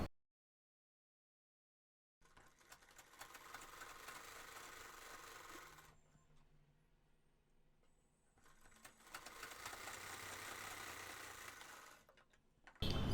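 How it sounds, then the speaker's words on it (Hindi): A sewing machine stitches the side seam of a pleated bell sleeve in two sustained runs of rapid mechanical whirring with a quieter pause between, heard close with no voices. "सिर्फ साइड की सिलाई रहती है। चलिए वो भी लगा लेते हैं।"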